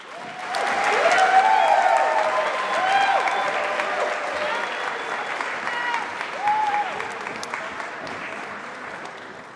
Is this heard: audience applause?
yes